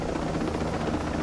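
Steady rotor and engine roar of a helicopter in the video game Ghost Recon Breakpoint, a continuous loud drone with no break across the short stretch.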